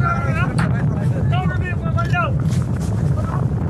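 Strong wind roars steadily around a boat on the haor near the Nikli embankment, where the wind whips up big waves. The wind's hiss stays loud and unbroken while voices call out over it.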